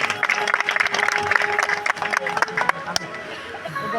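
An audience at a Hindi-language gathering claps in quick, dense bursts that fade after a few seconds, with a voice speaking over and after the clapping.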